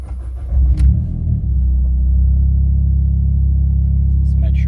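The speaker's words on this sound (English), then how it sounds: "And we'll start the car up." A tuned Mitsubishi Evo X running E85 cranks and fires up, then settles into a loud, steady, rumbling idle close by, with a brief voice near the start.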